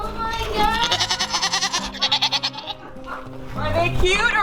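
Goats bleat loudly up close in long wavering cries on a North Idaho homestead in winter, with excited people talking and laughing around them.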